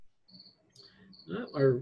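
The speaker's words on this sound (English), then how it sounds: "I can hear the crickets in the background" Faint high-pitched cricket chirps pulse in short bursts against a quiet background, with some louder mid-range rustling noise toward the end.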